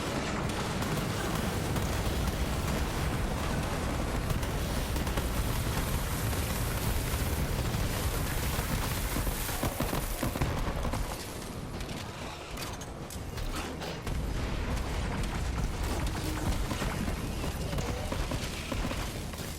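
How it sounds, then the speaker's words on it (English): Grenade blasts in Borderlands 3 make a dense, loud, continuous roar of explosions and rumbling debris, thinning briefly midway before building back up to a sustained chaotic din. "this grenade is fun. It blows up regular mobs like crazy"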